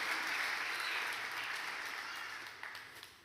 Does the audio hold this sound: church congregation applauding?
yes